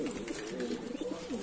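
A large male smoky Mardin pigeon coos in low, rolling, repeated throaty phrases, close and steady, with faint background hiss.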